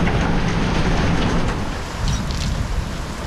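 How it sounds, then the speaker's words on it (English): Strong wind lashing a boat with hail and rain, a loud, continuous broadband roar of wind and drumming precipitation, steady throughout with slight easing near the end, no talk. "That was some nasty wind."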